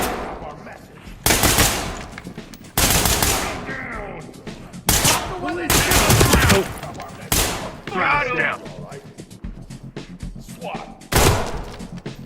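Bursts of automatic gunfire from the tactical shooter Ready or Not, several loud volleys spaced across the stretch with rapid rattling between them, while players talk over the shooting.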